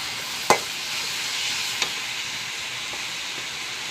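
Onion and tomato sauté in a pan as spice powders are stirred in, giving a continuous soft sizzle with a couple of sharp utensil taps against the vessel.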